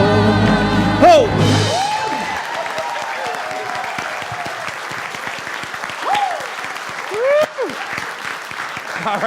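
A Sunday service congregation in a Science of Mind church gives sustained applause for a choir, with a loud burst of clapping near the start and scattered cheers.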